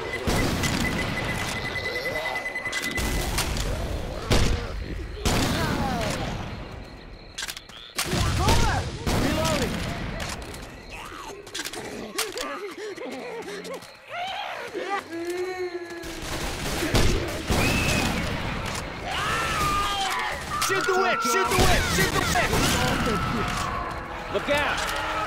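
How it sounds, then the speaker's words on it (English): Gunfire and a pipe bomb explosion in the video game Left 4 Dead 2, with bursts of rapid shots, booms and impacts amid frantic game-character shouts and chatter. "Throwing a pipe bomb."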